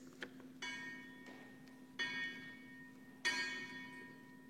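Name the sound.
bell ringing and fading into silence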